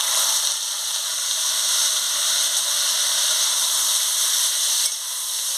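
Pieces of banana stem drop into a hot pan with dried chili tempering and sizzle, a steady loud hiss that runs unbroken throughout, close up and alone.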